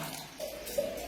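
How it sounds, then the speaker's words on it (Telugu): Water pours into a pressure cooker holding potatoes, a soft steady trickle at low level with faint splashy rises near the middle and end. "ఇందులో ఒక చెంబు వరకు నీళ్లు వేస్తున్నా."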